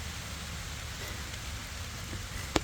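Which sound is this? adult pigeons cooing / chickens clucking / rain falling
rain falling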